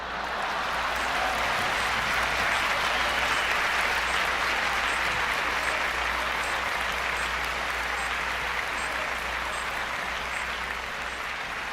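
Dense, continuous applause fills the whole stretch as an audience claps for a livestreamed concert, loud and even with no breaks.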